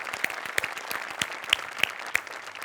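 A studio audience at a Marathi comedy show applauds with steady, fairly soft clapping. Sharper individual claps stand out against the even patter throughout.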